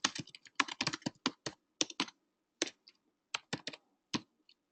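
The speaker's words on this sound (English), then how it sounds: "And I'll go ahead and type here." Typing on a computer keyboard during an online coaching call, a close, quiet run of irregular key clicks in quick bursts with short pauses, alone without talk.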